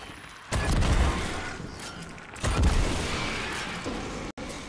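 A grenade from a Destiny 2 grenade launcher bursts in two loud, close booms about two seconds apart, each with a rumbling tail, ending in a brief cutoff.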